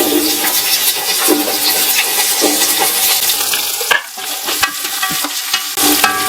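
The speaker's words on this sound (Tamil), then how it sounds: "இப்போ ஆனியன் சேர்த்துக்கலாம்." Onions sizzling and being stirred in a pan of hot oil with bay leaves, a loud, close, continuous frying crackle with scraping stir sounds throughout.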